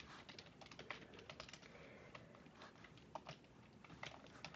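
Quiet rapid typing on a computer keyboard, a continuous patter of soft keystrokes at an irregular pace, close and faint, with no talking.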